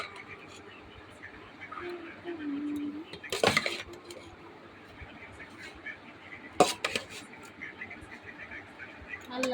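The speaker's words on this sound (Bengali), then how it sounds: "আমার ভাত বাড়ছি" Rice being served onto plates at a home meal gives two sharp clinks of a serving spoon against dishware, the first with a short rattle and the second a few seconds later, over a quiet room hum with faint background murmur.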